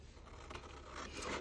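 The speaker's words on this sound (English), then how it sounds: "I can just take my scissors and I am going to trim away those corners" Scissors trimming the corners off paper, a continuous close scraping and rubbing cut that swells slightly toward the end, with no talking.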